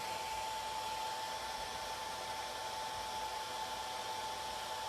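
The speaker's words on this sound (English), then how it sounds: "I'm just gonna hit this with the hairdryer real quick" A hairdryer runs steadily at close range to dry paint on a miniature D&D blue wizard figure, a constant loud airy whoosh with a faint steady whine and no break for about five seconds.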